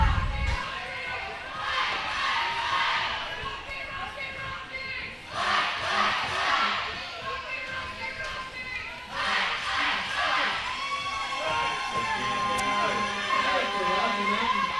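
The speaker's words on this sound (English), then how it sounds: "The cheering in here is deafening." A gym crowd of children and adults cheers and shouts in loud, swelling waves, with the roar peaking three times over a constant hubbub of chatter and footsteps, during a basketball game between Rocky Mountain and Wasatch.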